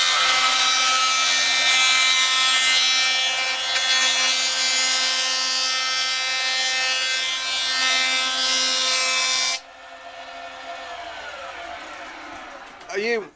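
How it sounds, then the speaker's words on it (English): An ebony fretboard blank for a Trace Elliot T bass runs through a small sanding machine, making a loud, harsh, sustained grinding whine for about ten seconds before dropping to a quieter motor hum as it winds down. "Once I've got a flat surface, I can put it through my little sanding machine."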